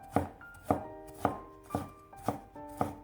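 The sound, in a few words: knife chopping ginger into thin slices and strips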